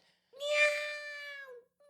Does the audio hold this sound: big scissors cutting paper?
no